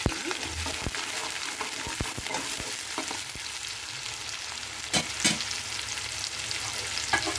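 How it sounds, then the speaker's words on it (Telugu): Onions fry in a pan with cumin, chana dal and urad dal for a potato curry, giving a steady close sizzle with occasional stirring scrapes and no talk. "తర్వాత ఆనియన్స్ వేసుకున్నాను."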